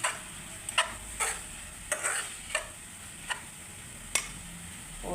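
Plantain and coconut cook in a pan under a low, soft sizzle, with a spoon making several sharp, irregular taps and scrapes against the pan, close by and with no talking.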